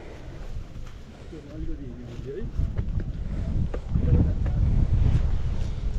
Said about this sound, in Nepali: कस्तो हावा चल्यो है।